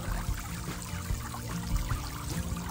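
Water splashing and splattering from the nozzle of a garden fountain into its container; a continuous, fairly loud spray and patter with no voices.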